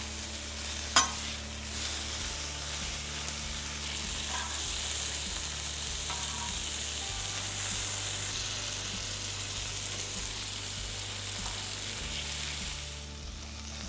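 Hot dogs sizzle slowly over low heat on a Wildfire griddle, a steady close frying hiss with a low hum beneath and one brief clank near the start.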